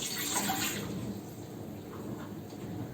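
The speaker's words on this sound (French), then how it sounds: "Je commence par verser l'eau dans la cuve" Water poured from a container into the pan of a Moulinex Pain Plaisir bread machine, a soft continuous splashing trickle that is strongest at the start and then thins out, close and quiet.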